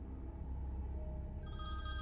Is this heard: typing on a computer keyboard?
no